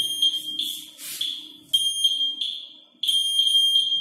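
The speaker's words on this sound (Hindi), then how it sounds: "पेंट लीकेज है तो साउंड करेगा" A spark test (holiday) detector sounds its alarm on paint leakage, giving a shrill electronic beep repeated in quick pulses, with two brief breaks in the pattern, loud and close with no talk over it.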